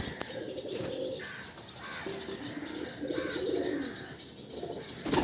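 Pakistani teddy pigeons coo in a loft, with repeated soft, low rolling calls overlapping steadily throughout, and a few chirps mixed in close by.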